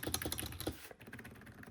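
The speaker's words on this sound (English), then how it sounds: "this is the clicky clacky keyboard" A clicky ergonomic keyboard typed on up close, giving a quick burst of crisp key clacks that stops partway through, leaving faint softer taps.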